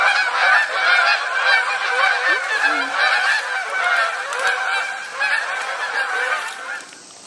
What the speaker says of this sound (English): We'll let the geese close us out.